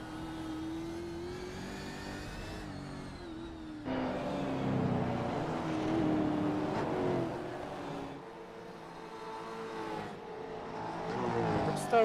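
A V8 race car engine drones and revs on a street-circuit track, rising and falling through gear changes at mid distance, with commentary talking over it.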